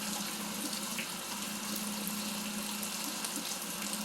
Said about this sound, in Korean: 이 시골 집 마당에 비 내리는 거.